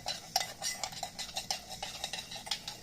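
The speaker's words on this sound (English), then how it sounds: "And then you just put a little bit of milk in there to mix it." A spoon stirs sugar and milk in a cup for homemade hot chocolate, giving a steady run of light clinks and scrapes against the cup at a regular rhythm, fairly quiet and close, with no talk.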